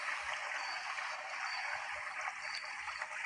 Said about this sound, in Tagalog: ayan, lumalabas pa rin mga tubig